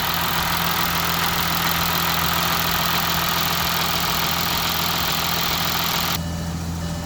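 A grey 2016 Audi A6 40 TDI quattro diesel with about 118,000 km idles with the bonnet open, giving a loud, steady, close engine drone with a low knocking rumble that shifts slightly near the end.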